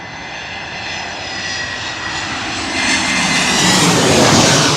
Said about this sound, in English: Oh, that was an Airbus A319. Oh, that sounded pretty good.